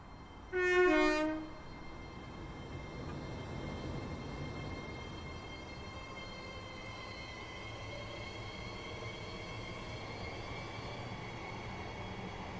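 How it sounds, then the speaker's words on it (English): Electrostar electric multiple unit in Train Sim World 4, with a short horn blast at the start followed by a steady rolling rumble and faint whining traction tones that stay even for several seconds. "I need my daily rush of Electro Star sounds"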